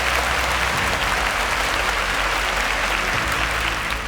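Studio audience at a televised quiz show breaks into steady, loud applause, a dense wash of clapping that holds evenly throughout with no voices over it.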